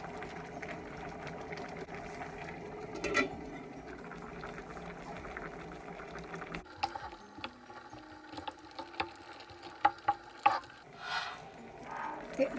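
Squid and string beans simmer in coconut milk in a pot, giving a steady soft bubbling with a few faint clinks and stirring sounds, quiet and close.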